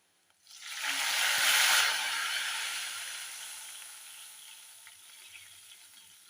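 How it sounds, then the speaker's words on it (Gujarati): Garlic, asafoetida and curry leaves hit hot oil for a tempering, bursting into a loud sizzle that slowly dies down to a soft, crackling fry, close up and with no voices. "લસણ આપણું થઈ ગયું છે અડધી પાંચ ચમચી હિંગ ઉમેરી થોડા લીમડા પાણી હવે આપણે એને વઘાર કરી લઈએ"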